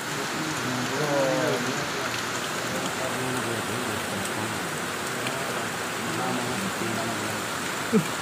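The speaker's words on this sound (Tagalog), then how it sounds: "Sa kulukuyang umuulan ngayon." Steady rain pours over an outdoor construction site, a continuous dense patter of drops on surfaces, with a few bits of talk in the background and a brief sharp knock near the end.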